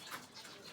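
Pigeons at a Rajshahi pigeon loft give a soft, faint coo heard briefly and far off against background hiss.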